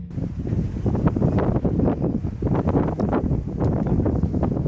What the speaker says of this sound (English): while we're doing the scene on the beach with Lara and Jonah, it is extremely windy.